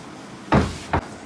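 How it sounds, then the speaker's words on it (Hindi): A door at home is pushed shut in two quick, solid thuds close by, the first heavier than the second, with no talking. "दरवाजा बंद कर दो।"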